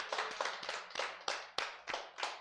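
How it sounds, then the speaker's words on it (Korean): A congregation at a Friday worship service claps in thanks to God, heard as a series of distinct, fairly faint rhythmic claps in loose unison, about eight sharp strikes spread evenly with short decaying gaps. "하나님께 감사의 박수 한번 칩시다."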